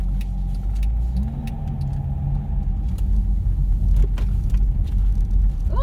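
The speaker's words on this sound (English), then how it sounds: "the traffic is crazy here" Heavy traffic on Clifton Street, with car engines rumbling steadily nearby and a continuous low road roar with no voices.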